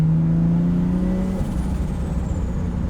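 A loud, modified car making close to 350 horsepower runs nearby with a deep, steady droning engine note that shifts partway through, then a rougher rumble continues, with no voices.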